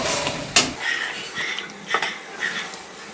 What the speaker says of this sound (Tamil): அரைச்ச கிரேவியை அதில் போடுறேன். போட்டு வதக்கணும்.